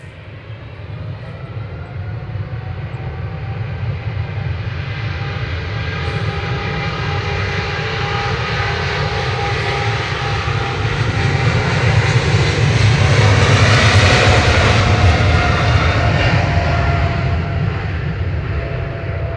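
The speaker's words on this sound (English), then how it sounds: "Etihad Flight 78 back to Abu Dhabi. That's A6ETP departing a 777-300ER" An Etihad Boeing 777-300ER widebody airliner departs Manchester Airport, its engines a loud, steady roar that builds slightly and peaks near the end, with no voices over it.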